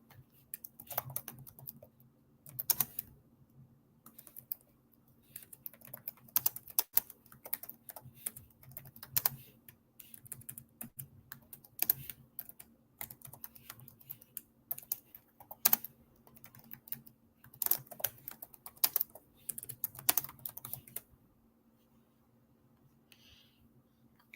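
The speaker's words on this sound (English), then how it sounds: "I'm gonna type it in the comment section." Rapid typing on a computer keyboard, close and clear, with irregular bursts of clacking keystrokes and short pauses, ending in near silence.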